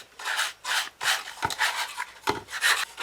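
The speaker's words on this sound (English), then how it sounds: "I'm going to sand the inside of this as well." Sandpaper rubbing the inside of a cardboard model rocket tube for an Apogee Nike Hercules build, close and dry, in steady back-and-forth strokes with brief pauses and soft knocks between passes.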